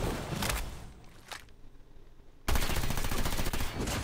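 Gunfire shooting through a wall in a shooter video game: a short rattling burst, a quieter pause with a couple of faint shots, then a loud sustained automatic volley up close.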